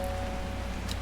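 Rain in the video game Strange Horticulture, a soft steady patter of drops with a faint underlying hum, brief and quiet with no voices.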